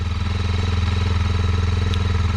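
A 2020 Kawasaki KLX230R fuel-injected single-cylinder engine idles close by, a steady low chugging pulse with light mechanical clatter and no throttle change throughout.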